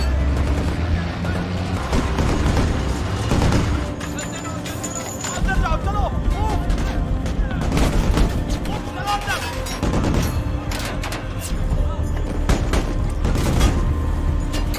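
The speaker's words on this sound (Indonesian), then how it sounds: "baku tembak pun kembali terjadi" Gunfire in a film shootout between a rapid-response troop and an ambushing enemy: repeated sharp shots and booming bursts over a dense action-movie soundtrack with voices and commotion throughout.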